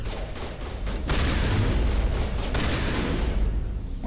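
Mass Effect Legendary Edition combat: dense, loud bursts of gunfire and booms in rapid succession, a chaotic fusillade filling the whole stretch without speech.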